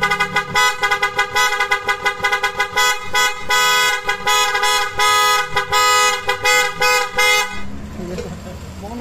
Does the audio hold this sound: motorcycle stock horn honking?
yes